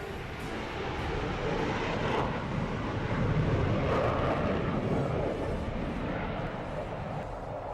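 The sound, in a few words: military aircraft flypast roar, Republic Day parade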